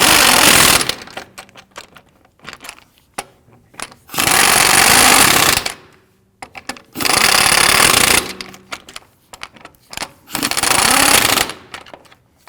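A powered impact wrench tightens lug nuts on a Ford Interceptor Utility wheel, firing four loud, close rattling bursts of about one to two seconds each, separated by quieter pauses with small clicks.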